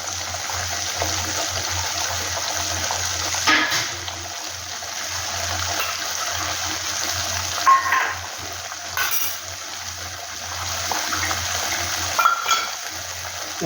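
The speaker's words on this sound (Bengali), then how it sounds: "এখন মশলা বাটি ধোয়া জলটা আমি দিয়ে দিচ্ছি।" Water pouring and trickling into a cooking pot while making a cabbage muitha dish, a continuous soft wash with occasional splashes and clinks.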